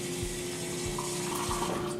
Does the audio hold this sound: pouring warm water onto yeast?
yes